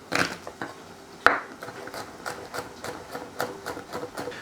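Garlic cloves are bashed and finely chopped on a cutting board, with one sharp knock followed by a steady run of soft, rhythmic knife taps, fairly close and quiet, with no talking.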